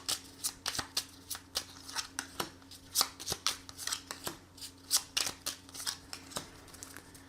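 Tarot cards being shuffled and drawn, a close, quiet series of crisp riffling snaps and flicks repeating in an uneven rhythm with no talking.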